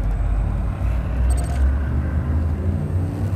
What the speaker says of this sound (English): Frameshift charge detected. Drive charging.